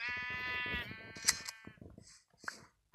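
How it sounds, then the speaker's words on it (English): A grey sheep in Minecraft bleats a long, wavering, clear and fairly close call, followed by a few quieter shorter bleats and soft clicks, with no talking. "Ooh, a grey sheep. I'm gonna shear you first."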